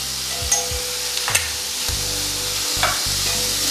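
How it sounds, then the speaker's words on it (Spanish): Minced garlic and paprika frying in a pan for rice, a soft steady sizzle with a few stirring scrapes and clinks of the utensil against the pan, quiet and close. "2 cucharaditas de ajo picado, lo doramos. Y voy a agregarle de una vez 1 cucharadita de páprica."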